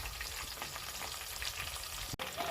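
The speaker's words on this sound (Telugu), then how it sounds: "మనం ఆనియన్స్ బాగా ఎర్రగయ్యేంత వరకు వేపుకోవాలి." Onions fry in a pan for a spicy fish curry, giving a steady, close crackling sizzle that runs unbroken except for one brief dropout near the end.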